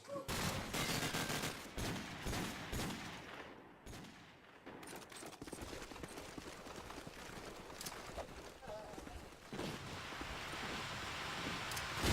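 Rapid AK rifle bursts from a competitive Call of Duty 4 match crack repeatedly over a continuous bed of battle noise, with a commentator talking over the gunfire.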